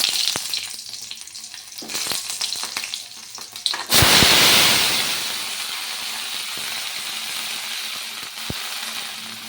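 Spices hit hot oil in a pan for a Bengali curry tempering, erupting into a loud, sudden sizzle after some clattering and clinks, then settling into a steady frying hiss.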